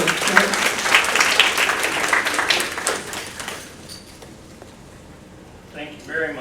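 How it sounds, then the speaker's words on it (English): Audience at a quarterly meeting applauding to welcome a speaker, loud dense clapping for about three seconds that thins and fades out, followed by a brief stretch of quiet and a short burst of talking at the end. "let's give Chuck a welcoming applause"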